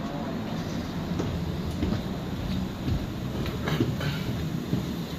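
A steady low rumble and rolling clatter fill the inside of a large Swiss double-decker train between Basel and Luzern, with faint rattles and muffled movement in the carriage.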